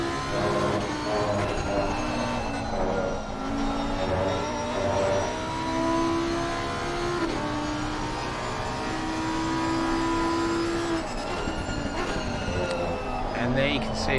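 BMW race car engine in the PC racing game Pan Am Racing at Valencia, a droning whine that climbs and drops in pitch through gear changes, with a commentator talking over it.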